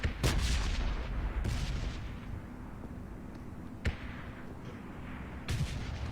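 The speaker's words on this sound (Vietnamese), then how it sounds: "Sweetie bắn thì bắn nhiều ấy nhỉ" Gunfire in the PUBG battle royale game: four sharp, booming shots spaced a second or more apart, sounding fairly distant, with nothing else in between.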